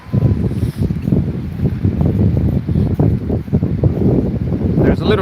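Strong wind blowing on a beach in South Korea, a steady loud roar buffeting the microphone with people talking faintly underneath throughout.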